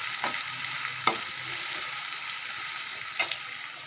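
Onions and tomatoes sauté in a pan for vegetable kurma, a steady sizzling hiss with a few sharp scrape-like clicks from stirring spread through it.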